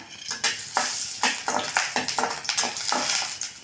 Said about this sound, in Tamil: வரமிளகா வறுத்து எடுத்துக்கலாங்க.